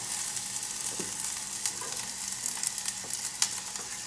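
Sardine fish balls made with leftover onion and garlic browning in a frying pan, giving a steady close sizzle with faint irregular pops and stirring scrapes, no voices.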